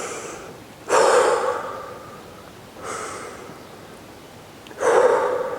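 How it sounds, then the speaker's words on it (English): Three deep breaths during a stretching exercise, each a sharp inhale followed by a long, fading exhale, evenly spaced and close, with no talking. "Take 3 deep breaths."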